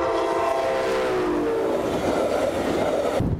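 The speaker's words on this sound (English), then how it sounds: "how much time is there between the gates coming down and the Brightline train actually crossing?" A Brightline train passes a crossing with a loud sustained rumble and a steady horn tone, heard nearby throughout without any talking.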